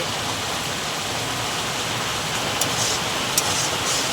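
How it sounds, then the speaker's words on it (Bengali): Steady, dense hiss of heavy rain falls continuously, with a couple of faint brief clicks near the end. "আমাদের এখানে খুব বৃষ্টি হচ্ছে, প্রচণ্ড বৃষ্টি হচ্ছে"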